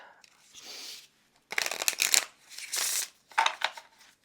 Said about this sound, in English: So let's shuffle these.